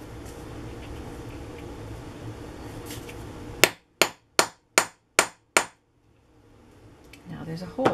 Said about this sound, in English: I say poke, but I'm going to hammer the hole